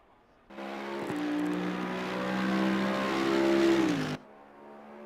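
GT2 race car engine heard from outside in a racing game, a sustained droning whine that rises in pitch, dips briefly around a shift, then climbs again before cutting off sharply, with no talking.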